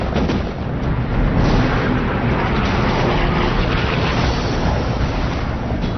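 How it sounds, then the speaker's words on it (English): Rapid, sustained barrage of heavy anti-aircraft fire from the 5-inch radar-directed main battery guns of the destroyer Laffey, a dense continuous rumble of overlapping blasts at steady loudness throughout. "Laffey unleashes an anti-aircraft barrage. First, the main battery, 5-inch radar-directed guns."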